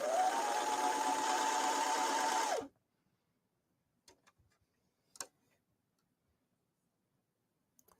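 A sewing machine stitches T-shirt fabric in a steady, fast whirring run for a couple of seconds, then stops abruptly, leaving near silence broken by a few faint clicks and taps.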